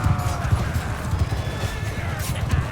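Cavalry horses charge in a Mount & Blade II Bannerlord battle, hooves pounding in a steady, dense clip-clop with occasional whinnies over a busy battlefield din.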